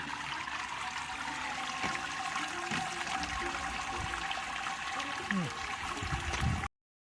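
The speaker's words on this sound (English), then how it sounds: "So that's the Sparge now complete. It'll sit there draining" Sparge water drains and trickles through a bed of mashed grain in a BrewZilla all-in-one brewing system while brewing a NEIPA, a steady close liquid rush and dribble running throughout with a few knocks.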